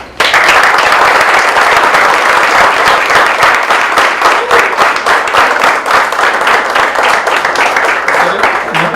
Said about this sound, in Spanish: yo creo que debemos de darle un aplauso a este hombre